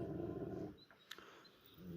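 A dog growls low and close, breaking off into a brief pause before the rumbling growl starts again.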